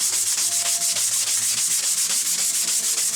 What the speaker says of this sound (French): poncer le manche